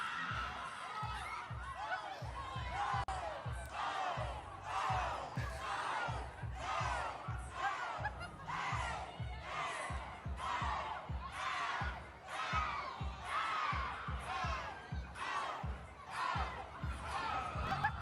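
Crowd reacting with bursts of laughter, shouts and cheers, rising and falling in rhythmic waves over eighteen seconds while voices talk over it.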